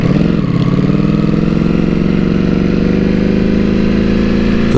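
A 2018 Ducati V4S motorcycle runs close up, its engine holding a loud, steady, throbbing note with a slight dip and recovery near the start and no voices over it.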